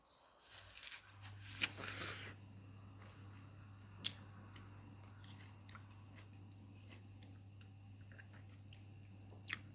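A Beauty of Bath apple is bitten into and chewed. A crisp crunch comes first, then quieter close chewing sounds with a few sharp clicks, over a low steady hum.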